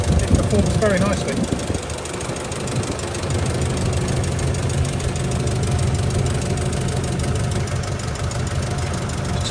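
A 1960 Land Rover Series 2 88-inch petrol engine runs steadily at idle, close and loud, with a rough mechanical knock throughout and a brief voice at the start.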